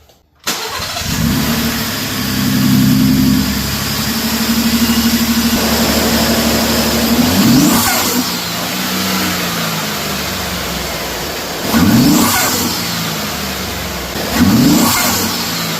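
A 2025 Ford F truck fitted with an aFe Magnum Force Stage 2 intake starts up, settles into a steady idle, then gets three sharp blips of the throttle, each rising and falling quickly, recorded close with no talking.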